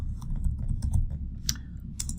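Code being typed on a computer keyboard, a quick close run of light key clicks with a few sharper taps, no voices.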